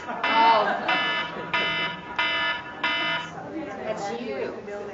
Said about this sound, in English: I set this alarm on purpose.